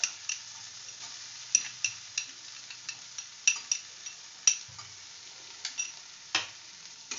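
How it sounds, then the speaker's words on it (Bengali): Spoon scraping and stirring pointed gourd with poppy seeds in a pan at a steady pace, with a soft sizzle of frying underneath and sharp clinks at intervals. "এটাকে কিন্তু আমি একটু নাড়াচাড়া করে ভেজে নেব"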